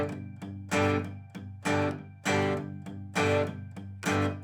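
Slow, accented acoustic guitar strumming of a song, with palm-muted strokes alternating with ringing open accents: about a dozen rhythmic strums, bright and close, with no talk.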